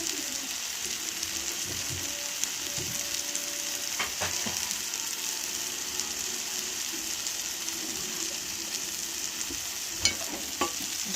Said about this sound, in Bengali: আমি আরেকটু নাড়ানাড়ি করে নিচ্ছি ভালো করে।